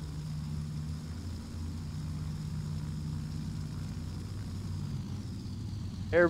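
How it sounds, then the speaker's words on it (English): An airliner, an Airbus 321, taxiing at high speed with full flaps in Flight Simulator X: a steady, loud low engine drone that holds throughout, with a brief rising whine and swell right at the end. "Everyone likes super high-speed taxiing, right?"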